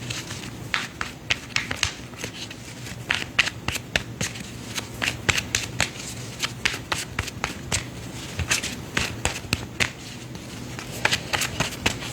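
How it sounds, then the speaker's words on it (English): Tarot cards being shuffled by hand, a steady run of crisp riffling slaps and flutters close by, alone with no talking. "now I'm going to shuffle."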